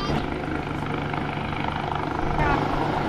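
Steady, loud helicopter rotor thrum with a dense low throb throughout, close by and unbroken, as a rescue helicopter hovers overhead at Vieussan on the Orb while a crewman descends.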